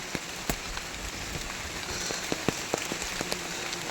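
Light monsoon rain patters steadily on leaves and ground outdoors during a mushroom-gathering walk, a continuous soft hiss broken by scattered louder drips and taps.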